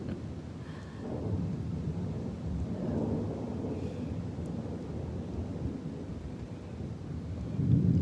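Summer thunderstorm in South Florida, with steady heavy rain and low rolling thunder rumbling continuously throughout, a louder gust of wind or rumble near the end, no voices.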